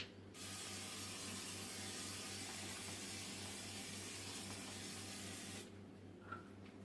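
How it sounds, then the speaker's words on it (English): Oil sprayed from a spritz pump onto a heated donut maker gives one sustained hiss of about five seconds, close and steady over a low appliance hum, then stops abruptly. "we'll just spritz it down with some oil so that it doesn't stick"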